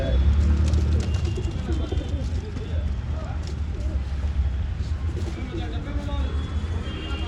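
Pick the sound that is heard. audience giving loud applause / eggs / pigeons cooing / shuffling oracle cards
pigeons cooing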